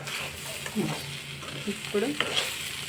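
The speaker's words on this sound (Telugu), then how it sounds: "వంకాయలు బాగా ఫ్రై అయిపోయినాయి. పచ్చికారం కూడా బాగా వేగిపోయింది." White brinjals frying with green chili in a pan, a steady close sizzle with scattered stirring scrapes and clinks, no talking.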